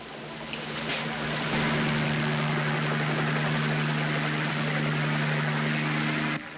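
A helicopter comes down to land in a backyard, its steady engine drone and rotor hum holding loud and close for several seconds before cutting off abruptly.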